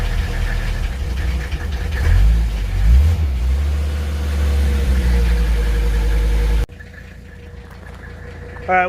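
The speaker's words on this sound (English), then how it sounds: "I stabbed the throttle full to the floor on a free rev" A Mercedes-Benz W123 OM617 diesel engine is free-revved hard with the throttle floored, its loud rough clatter swelling and falling for several seconds, then the sound drops away abruptly into a quieter background with a brief noise at the end.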